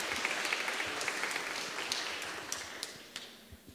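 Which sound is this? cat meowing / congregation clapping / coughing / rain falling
congregation clapping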